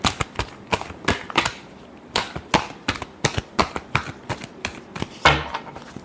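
Tarot cards being shuffled by hand in a series of sharp, close riffling bursts and slaps, irregularly spaced with short pauses between them, no talk.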